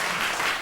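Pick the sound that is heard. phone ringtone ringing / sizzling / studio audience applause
studio audience applause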